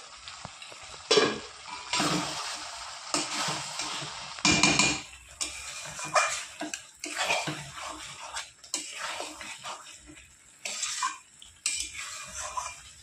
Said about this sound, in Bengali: এবার আমি ঢাকনিটা তুলে আবার কিছুক্ষণ নেড়ে নেব